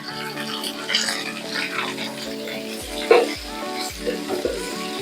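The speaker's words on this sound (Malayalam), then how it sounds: "കറിയോടൊപ്പം തന്നെ കറിവേപ്പില, സവാള വഴറ്റാൻ പോകുന്നു." Onions and curry leaves sauté in hot oil in a home kitchen, a continuous sizzle under scattered scraping stirs and a few sharper clatters of a utensil against the pan.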